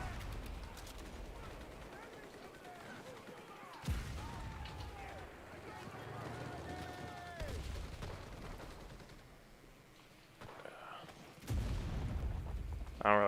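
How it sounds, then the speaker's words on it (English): Sniper rifle shots crack at scattered intervals in the World War II shooter Enlisted during a Tunisia battle. The loud reports stand out over someone talking quietly and a low wash of battlefield noise. "Looks like we got some sniping fights going on up here."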